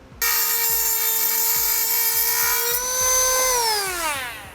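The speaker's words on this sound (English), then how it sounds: "we'll just trim that off of our rotary tool" A high-pitched rotary tool whines steadily while trimming a plastic section under the front of a 2008 Honda CR-V, its pitch dropping as it winds down at the end.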